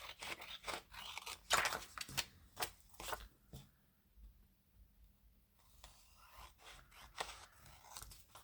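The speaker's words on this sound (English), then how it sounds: "I'll just trim that one out" Scissors trim paper for junk journal inserts with close, crisp snips and crunchy paper rustling in quick bursts, followed by a brief quiet pause and then more cutting.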